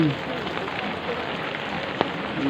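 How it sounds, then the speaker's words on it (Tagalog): Steady patter of rain falling on a surface, a soft continuous hiss with scattered drops and one sharp tap near the end. "kanina pa tong ulan na to eh"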